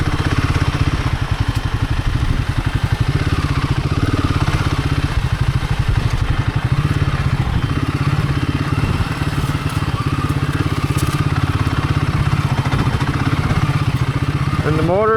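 Himalayan 450 motorcycle riding off-road on sandy Michigan singletrack, its lugging single-cylinder engine thumping loudly and continuously with a rapid pulsing beat, rough clatter and rising revs near the end.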